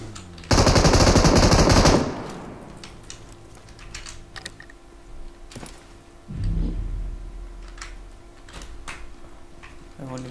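Automatic rifle fire in PUBG Mobile: a loud sustained burst up front, then scattered single clicks and shots with a brief heavy thump later, close and punchy with no talk.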